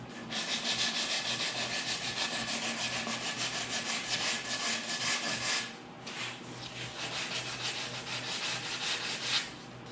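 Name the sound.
hand sanding wood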